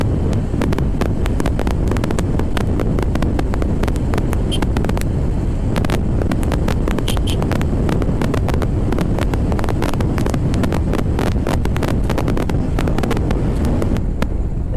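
A Pulsar motorcycle crossing the bridge at Kalna, dominated by loud, constant wind buffeting on the microphone over a low engine rumble throughout.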